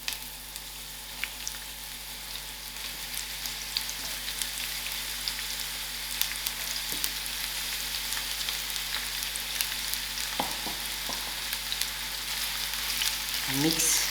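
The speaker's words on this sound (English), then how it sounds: "and allow these onions to fry for a few seconds." Chopped onions fry in olive oil in a non-stick pan, giving a steady, soft sizzle throughout with occasional faint stirring clicks near the end.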